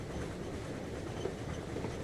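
A train in a video game rolls steadily on rails, a continuous rumbling clatter at an even level throughout, with no talking.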